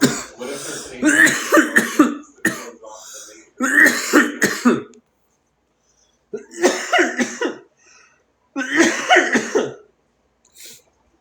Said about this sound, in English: Oh my gosh, I'm so sorry for coughing in y'all's ears.